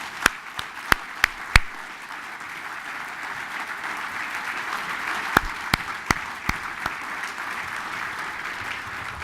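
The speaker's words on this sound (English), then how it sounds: "I'd like to give them all a round of applause." An audience applauds at the 2013 INSA Achievement Awards ceremony: a continuous wash of clapping with several sharp, isolated claps standing out near the start and again midway.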